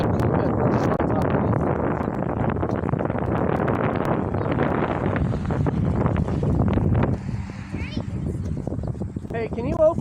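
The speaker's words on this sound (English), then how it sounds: "It is very windy." Strong wind buffets the microphone on a homestead, a steady roaring rush that runs for about seven seconds before easing, with a voice briefly heard.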